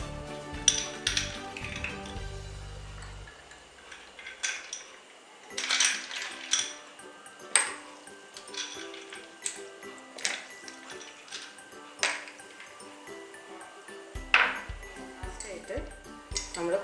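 Ice cubes clink and knock into a glass of tulasi sarbath in a series of sharp, separate impacts spread over several seconds, with a person talking over them.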